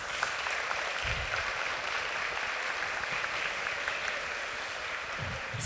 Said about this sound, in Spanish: profesora Legni Uzcategui, a quien pido un aplauso.